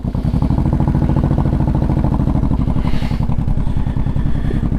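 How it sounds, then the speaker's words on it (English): Honda VTX1800 motorcycle engine running, a loud, steady, close-up throbbing idle with an even pulsing beat and no talk over it. "it's so nice to be back on a bike"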